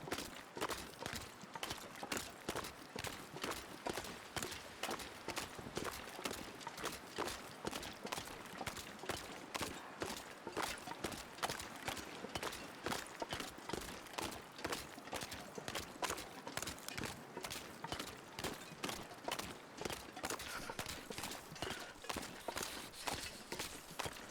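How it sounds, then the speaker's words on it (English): In the video game The Long Dark, steady, evenly paced crunching footsteps of crampons biting into ice continue quietly and without a break. "crampons on the ice sound so ominous"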